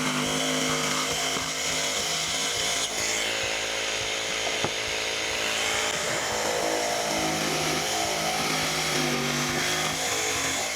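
A power tool cuts rounded corners into the wood of a beer crate, a steady loud whining drone that runs without pause from start to finish with no voices.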